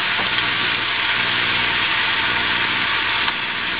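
Peppers and onions sizzle in a frying pan for a stir-fry, a loud, steady hiss of frying that stays dense and even without pause.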